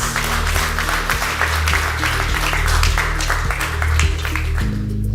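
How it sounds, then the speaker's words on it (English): Audience at a startup sustainability demo day applauds panel speakers with scattered claps over a sustained musical bed, then fading near the end. "A round of applause for our panel speakers"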